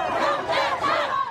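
A massive crowd at a Trump rally in Dallas roars and chants in a loud, surging wave of many voices that swells twice and carries on without pause.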